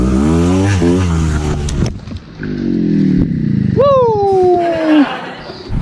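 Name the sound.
motorcycle engine revving on an enduro track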